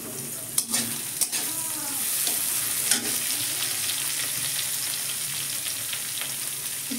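Chopped onion sizzles steadily in a pan while being stirred, with a few sharp clinks of a utensil against the pan early on, a continuous bright frying hiss with no talk.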